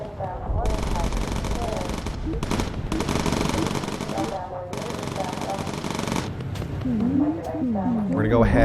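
Bomber gunners fire machine guns in the Bomber Crew video game: loud, dense bursts of automatic fire in several long stretches over continuous engine drone, with speech-like game voices near the end.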